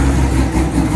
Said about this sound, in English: Starts right up and idles